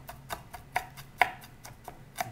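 A knife rapidly mincing garlic on a cutting board, a series of crisp, evenly spaced taps close by, about four or five per second, with no talking.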